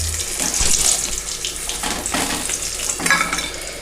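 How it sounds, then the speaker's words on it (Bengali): Fish frying in oil for a Bengali Shankar fish (stingray) curry, a close, bright hiss and crackle with brief surges, like splashing water, as pieces are moved in the pan. "এই একইভাবে বাকি মাছগুলো আমি ভেজে নেব"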